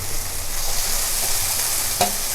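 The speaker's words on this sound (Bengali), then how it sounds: "আর একটু কষিয়ে আমি এর সঙ্গে মটরশুঁটিটা মিশিয়ে দেবো দিয়ে এক মিনিট ভালো করে নাড়াচাড়া দিয়ে এবার আমি শিমটা দিয়ে দেবো" Green beans and peas frying in a pan make a loud, continuous, hissing sizzle, with one sharp scrape of stirring near the end.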